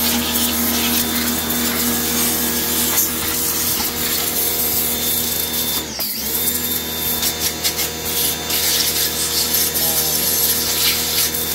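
Pressure washer (a Sniper unit) running steadily with a constant motor hum and hiss, loud and close, with a brief dip midway and no speech.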